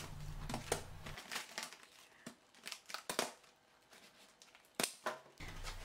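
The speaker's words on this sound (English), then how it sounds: "You need to use the scissors to cut it off." Scissors cut through the hard part of a lotus leaf, producing quiet crisp snips and crinkling rustles in irregular bursts, close but faint, with a low hum in parts.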